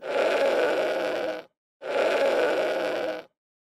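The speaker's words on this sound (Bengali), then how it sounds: "এটা হলো ভেড়া। ভেড়াকে ইংরেজিতে বলে শিপ।" A sheep bleats twice, two drawn-out, rough baas of similar length with a short pause between them, fairly loud and close with no other sounds.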